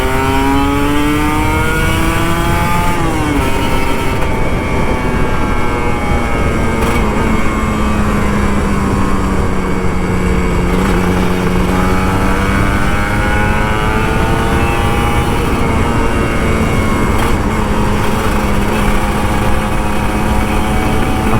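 An old Kawasaki Ninja RR 150 two-stroke motorcycle engine revs loudly and close, its pitch rising and falling through repeated throttle blips and sustained high-revving runs.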